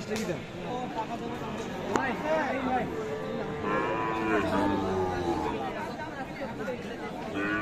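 Sahiwal-breed bull calves and other cattle moo amid the busy chatter of a livestock market, with people talking nearby and several animals calling at moderate loudness.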